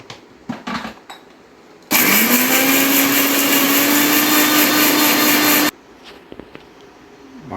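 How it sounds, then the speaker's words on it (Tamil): Electric mixer grinder, a 750 W or 1000 W mixie, grinding spices into a paste for Madurai-style chicken biryani, a loud steady whirring roar that runs for about four seconds, bracketed by quieter handling clatter before and after. "பவுடராக அரைக்கலாம், நான் கொஞ்சம் பேஸ்ட்டாக அரைக்க போகிறேன்"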